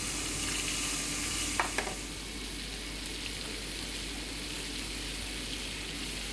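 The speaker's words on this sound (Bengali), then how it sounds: "এবার আমি এখানে বেশ কিছুটা পেঁয়াজ কুচি করে রেখেছিলাম," Chopped onion and a little black cumin frying in hot oil in a home kitchen, giving a steady close sizzle with a couple of brief stirring clicks early on, no talking.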